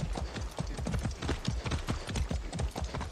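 Steady clip-clop of horse hooves in the video game Far Cry 6, a regular trotting rhythm of hoofbeats, close and clear with no talking.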